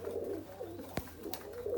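A soft pigeon coo rises briefly on a balcony over faint background noise, with a short sharp tap partway through, as the pigeons eat feed.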